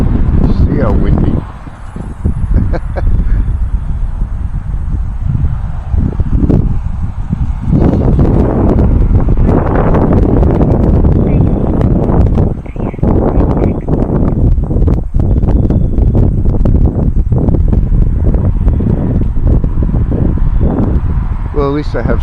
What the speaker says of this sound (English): See how windy.